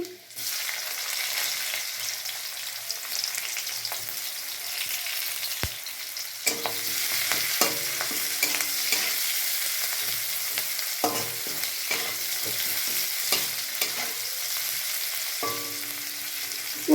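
Chopped garlic, onion and green chilli with cumin seeds sizzle steadily in a pan, a dense continuous hiss close by, punctuated by repeated sharp clicks and scrapes of a spatula stirring.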